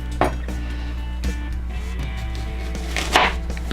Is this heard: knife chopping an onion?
yes